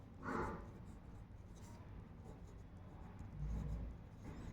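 Pen scratching steadily on paper while a maths solution is written out, a low continuous scrawl that swells in short bursts, close and fairly quiet, with no talking over it.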